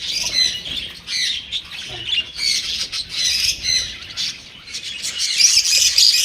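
Birds for sale squawk and chirp in a busy chorus inside an aviary, the calls overlapping continuously at close range with no pause.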